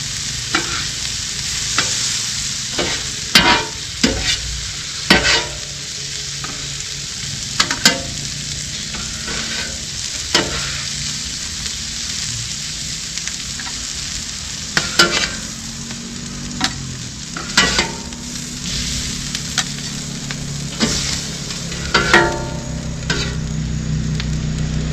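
Garlic shrimp sizzling on a Hunsaker griddle, a steady hiss of frying under repeated sharp scraping and stirring clicks from a spatula, close and even throughout.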